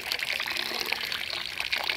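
A steady stream of water pours from the hose of a water ram pump, a bright continuous splashing trickle at moderate volume heard alone without talk.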